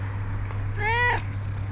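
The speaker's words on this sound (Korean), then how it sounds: "사람을 좋아하는 친근한 고양이들이 많아요." A friendly street cat in Amman, Jordan gives a single clear rising meow near the listener at night, over a steady low hum of background noise.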